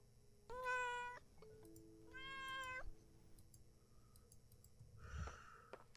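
A cat in the horror game Layers of Fear: Inheritance gives two clear, drawn-out meows close by, followed by a short snort or breathy huff near the end.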